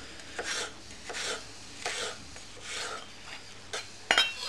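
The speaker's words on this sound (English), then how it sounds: "Slice all the pepper up." A knife slices a pepper into thin strips on a cutting board while a Thai red chicken curry is prepared, five or six rhythmic, fairly quiet cuts, each a short crisp rasp ending in a soft tap on the board.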